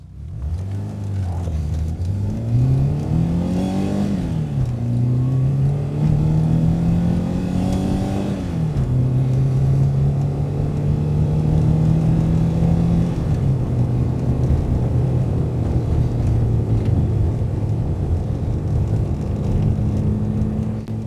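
A 1982 Renault 5 Alpine Turbo Gordini hot hatch drives hard, its engine loud and close as it revs up through rising pitches, shifts, then holds a steady droning cruise.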